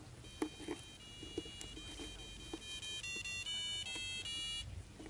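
An Arduino sounds the first 13 notes of a song as thin electronic beeps, a quick run of pitched tones rising and stepping in the latter half, faint against background noise and soft tapping.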